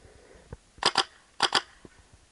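A Spyder Fasta 18-volt paintball marker free firing in a back yard: four sharp, loud, close pops in two quick pairs, with no talking.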